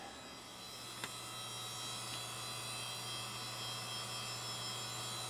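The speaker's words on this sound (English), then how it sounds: "That hard drive sounds a little like it's got some miles on it." Old, worn hard drive spinning inside an AMD Athlon K7 computer: a faint, steady hum and whir running constantly, with one tiny click early on.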